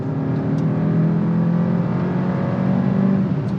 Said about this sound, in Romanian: Hai să-i dăm un kickdown așa scurt, dacă mai avem timp.